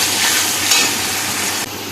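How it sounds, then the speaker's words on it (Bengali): Ground onion paste fries in a pan of hot oil with a steady, dense sizzle, close and continuous, fading slightly near the end. "এবার পেঁয়াজটাকে একটু ভালো করে ভেজে নেবো"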